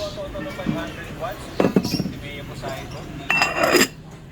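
Marinated meat goes into a cooking pot in a home kitchen, with metal clanks and utensil clatter in two short bursts while a person keeps talking.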